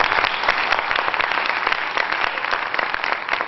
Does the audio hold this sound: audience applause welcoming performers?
yes